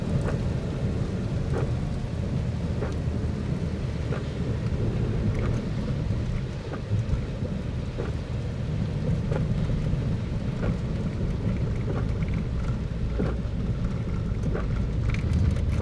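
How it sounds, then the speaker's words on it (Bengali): Steady rain falls throughout, with faint low rumbles of thunder rolling underneath and no voices. "এখন সকাল সাড়ে ছয়টা বাজে এখন আবার বাড়ির দিকে যাইতেছি"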